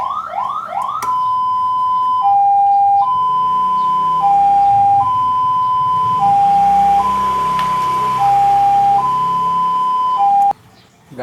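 An ambulance siren in high-low mode cycles steadily between two pitched tones, loud and close, repeating about five times before cutting off abruptly, with no talking.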